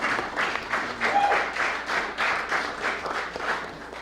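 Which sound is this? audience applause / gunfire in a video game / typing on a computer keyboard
audience applause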